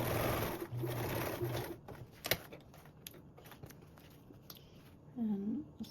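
A sewing machine stitches the top edge of a convertible duffle's binding with a quarter-inch seam allowance, a brief steady whir near the start followed by scattered handling clicks and rustles, close up.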